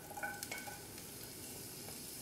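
Garlic sizzles in a hot pan of olive oil while being stirred, a soft steady frying hiss with a few light scraping stir sounds near the start.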